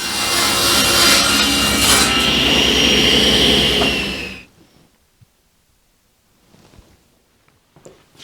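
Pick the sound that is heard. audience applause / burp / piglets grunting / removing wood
removing wood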